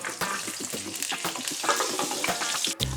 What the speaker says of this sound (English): onion goes in.